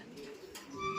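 A pet dove or pigeon with a twisted beak gives a soft, faint coo at close range amid quiet background noise.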